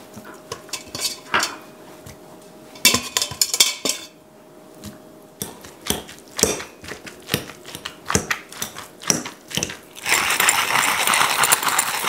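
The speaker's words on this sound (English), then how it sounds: "we're going to get our potatoes and our celeriac out of the Instant Pot" Metal utensil clanks and scraping against an Instant Pot's inner pot as potatoes and celeriac are scooped out, rapid irregular clinks and knocks, close and alone, ending in a steady sizzling hiss.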